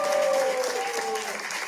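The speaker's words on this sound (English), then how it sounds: "Everyone give Andy a round of applause" Applause from a room full of people at a charity presentation, a brief burst of clapping that holds steady then thins, with a faint tonal whine running underneath.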